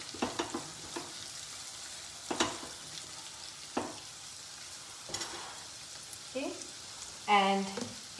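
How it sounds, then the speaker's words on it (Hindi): Green beans sautéing in a pan for a simple homemade dish, heard as a soft steady sizzle with occasional stirring scrapes and faint background voice, fairly quiet and close. "साथ में सौते कर लेंगे। साथ ही मैं डालूंगी ग्रीन बीन्स।"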